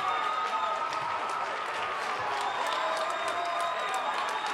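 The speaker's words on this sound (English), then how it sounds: "And the Valley crowd applauding them very, very generously here." Basketball crowd at a Valley boys' high school game against Morgan applauding steadily, a dense continuous patter of clapping with some cheering, sustained and fairly loud throughout with no break.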